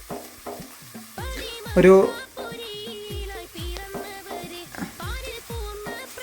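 Beef masala being stirred and fried in a pan, with a spoon scraping and clattering in repeated strokes over a steady close sizzle, while a person speaks briefly.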